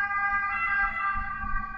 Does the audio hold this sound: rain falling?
no